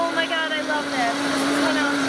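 A Vitamix blender whirs at a live demonstration, its motor holding a steady high-pitched drone for the full stretch while a voice talks over it.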